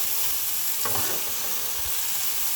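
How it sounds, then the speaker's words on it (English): Onions and vegetables fry in a pan with no oil, giving a steady, soft sizzle, with a faint scrape of stirring near the start and no voices. "I'll let my vegetable also fry."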